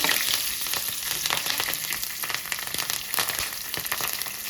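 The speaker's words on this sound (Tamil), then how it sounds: "சோம்பு நல்லா பொரிஞ்சிடணும்" Fennel seeds crackle and splutter in hot oil, with curry leaves and green chillies in the pan, a dense continuous hiss with scattered pops, close and steady without talk.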